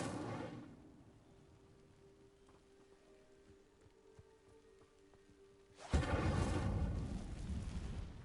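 An Incendio fire spell ignites dry vines in Hogwarts Legacy, a loud burst of crackling, rushing flame erupting suddenly after a quiet stretch and roaring steadily to the end.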